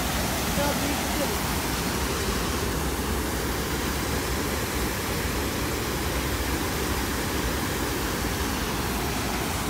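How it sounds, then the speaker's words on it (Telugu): Steady rushing roar of a waterfall, a dense broadband wash of falling water that holds constant and fairly close throughout, with no distinct breaks. "బ్యాక్ సైడ్ చూస్తున్నారు కదా, జలపాతం, వాటర్ ఫాల్"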